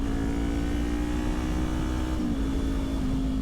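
Kawasaki Ninja 400 motorcycle engine humming steadily under load, with a brief drop and step in pitch partway through as it shifts gears, close and continuous with wind noise and no speech.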